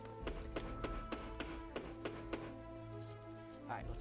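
Boards are hammered over a door in the Project Zomboid video game, a rapid series of about nine evenly spaced tapping knocks over a steady background tone, then fading.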